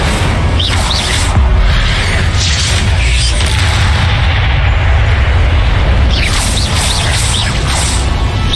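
Incendio fire spell cast in Hogwarts Legacy, a loud whooshing burst of flame with booming impacts over dense, steady game ambience and no speech.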